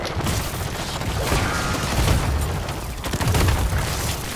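Grenade launcher blasts in the first-person shooter Dark Aether, a dense run of booming explosions and gunfire rumbling continuously at close range with low, heavy thuds peaking repeatedly.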